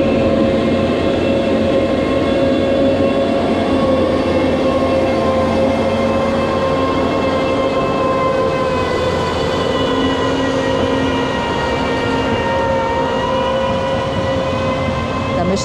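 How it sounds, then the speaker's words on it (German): A work vehicle grinds up a forest track by a reservoir in the Erzgebirge with a loud, steady engine roar and whining tones that shift slowly, continuous and close for the whole stretch. "Es hört sich so an, als würde hier auch gleich ein Fahrzeug hochkommen."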